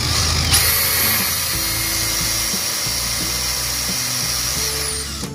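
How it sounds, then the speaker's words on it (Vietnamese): A power drill with a 15 mm bit bores into wood while building a wooden cabinet, a steady high whining drone that shifts slightly in pitch as it cuts, loud and close with no talking. "Đây, mình sẽ dùng cái mũi khoan D15. Mình khoan cái này."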